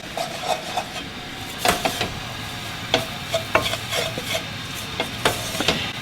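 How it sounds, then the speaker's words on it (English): Spices are dry toasted in a pan for chana masala, with repeated scraping stirs and light rattling ticks over a faint steady sizzle, close and without talk. "Now I'm dry toasting this."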